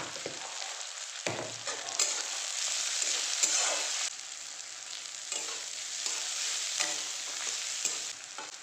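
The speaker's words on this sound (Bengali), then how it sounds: "এবার ভালো করে পেঁয়াজটাকে একটু ভেজে নিতে হবে।" Onions fry with a bright, steady sizzle in a pan while being stirred, the hiss swelling and easing with each turn of the spatula and a few scraping pulses along the way.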